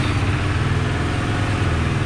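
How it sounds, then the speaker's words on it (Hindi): A KTM RC 390 motorcycle engine idling steadily just after its first startup, a close, loud and even engine drone with no talking over it. "ओके, फर्स्ट स्टार्टअप कर रहा हूँ बाइक का."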